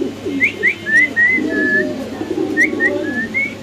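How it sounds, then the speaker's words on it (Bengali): A female Velvet Shield pigeon calls nearby in soft, repeated cooing phrases with short rising whistle-like notes, alone with no talking. "বেলভেট শিল একটা মাদি কবুতর"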